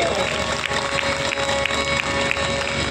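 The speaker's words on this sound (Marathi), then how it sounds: "या आमच्या राजरत्नासाठी सगळ्यांनी टाळ्या वाजवा." A hall audience at a Shiv lecture event claps together in a steady, dense wash of applause that holds evenly for about three seconds, with a faint steady hum underneath.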